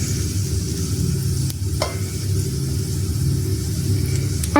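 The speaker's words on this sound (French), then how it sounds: "pour faire revenir la viande, il vous faudra un petit peu d'huile d'olive" Meat browning in a little olive oil in a pan, a steady close sizzle with a low rumbling bed, one or two faint clicks of stirring, no voices.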